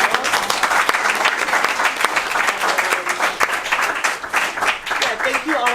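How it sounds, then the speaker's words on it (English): Audience applause at an after-talk event with Daniel Barkan, a steady dense wash of clapping from a crowd that holds level for several seconds, with voices faintly mixed in. "more round of applause for Danielle"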